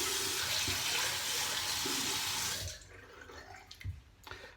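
Strong rush of running tap water rinsing a shaving razor in a sink, steady and close for a few seconds, then cutting off to quieter drips and small handling clatters.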